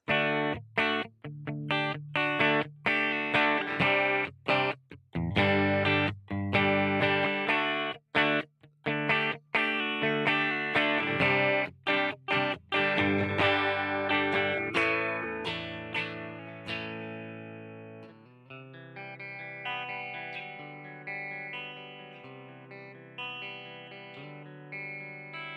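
An electric guitar played through a Deluxe amplifier with effects rings out in rapid chopped chords, then settles into sustained, slowly decaying notes, heard alone without talk.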